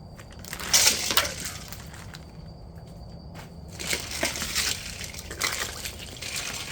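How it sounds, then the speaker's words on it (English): Freshly made Cornish game hen tikka masala sausages being dropped into an ice bath, giving soft crunching and sloshing of ice and water, a louder splash early on followed by quieter shifting and trickling. "and into the ice bath they go."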